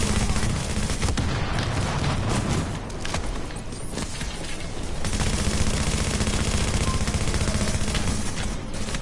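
Heavy gunners firing machine guns in The Division, a dense, continuous barrage of rapid gunfire with layered shots and booms filling the whole stretch at steady loudness.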